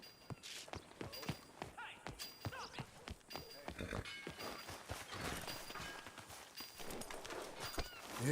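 Horse hooves clip-clop in Red Dead Redemption 2, a run of sharp close hoof strikes over a busy game soundscape, fairly faint overall.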